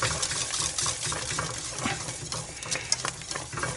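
Hot broth being stirred into a hot roux for brown sauce, a soft continuous scraping and sloshing of a spoon in the pan with faint sizzling and occasional light clinks, close and fairly quiet.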